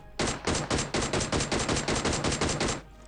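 Rapid burst of PUBG Mobile gunfire, about a dozen loud, evenly spaced shots fired in quick succession over nearly three seconds, with no talk.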